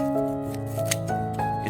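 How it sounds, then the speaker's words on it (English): Scissors snip through dry onion skins, cutting them into small pieces, with a few crisp, rhythmic cuts close up over a steady background tone and no talk. "I use scissors to cut the onion skins into small pieces"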